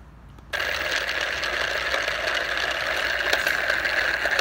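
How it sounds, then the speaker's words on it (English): A 3D printed actuator with a planetary gearbox of straight cut gears spins up abruptly and keeps running, a steady loud whine with a gritty rattling buzz from the noisy gear teeth. "the gear teeth are really noisy. They're still straight cut gears"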